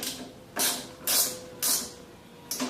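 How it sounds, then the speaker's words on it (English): Four separate bursts of mechanical ratcheting or wrenching come from a nut being tightened on a go-kart mirror mount, each lasting about half a second, with short pauses between them and no talking. "you can finish tightening the nut"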